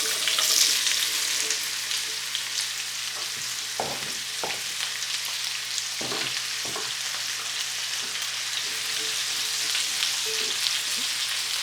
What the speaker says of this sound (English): these vegetables have been sauteing in butter